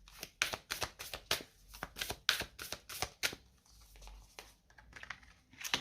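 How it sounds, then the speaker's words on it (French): Tarot cards slide and snap down onto a table in a quick run of close, crisp card sounds, thinning out and growing sparser toward the end. "je vais mettre la petite carte conseil avec la lunologie"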